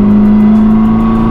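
A supercar's deep, loud engine drone with a rough, rumbling exhaust burble from a burble tune, held steady at high revs for a moment.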